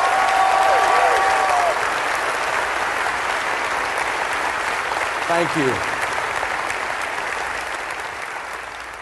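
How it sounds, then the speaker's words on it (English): An audience gives a sustained round of applause for a tech crew at a Financial Peace University event, loud and dense at first, then slowly thinning, with a voice briefly speaking over it. "And I'd like for you to give all of those people a round of applause right quick."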